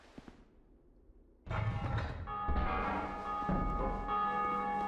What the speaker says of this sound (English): we rang both bells